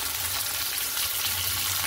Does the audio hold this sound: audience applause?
no